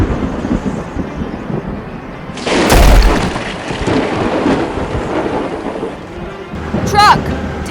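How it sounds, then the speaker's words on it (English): Thunder booms through a heavy rainstorm over a riverside excavation site, a loud rolling crack rising out of dense steady rain hiss, with a voice briefly heard near the end. "Thunder and lightning ahead!"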